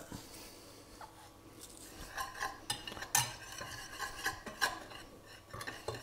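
Dry flour, baking powder, turmeric and salt for fish-and-chips batter are stirred in a bowl, with a run of soft scraping strokes and a few sharper utensil clicks against the side, close and fairly quiet.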